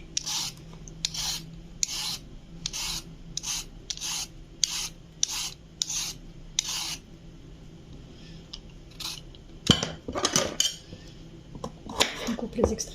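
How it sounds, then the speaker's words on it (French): A peeler scrapes down a carrot in a home kitchen while a fresh salad is prepared, giving about ten quick, even rasping strokes in a steady rhythm, close and clear, followed by a few irregular knocks and scrapes. "Maintenant, la carotte. Voilà, on l'épluche."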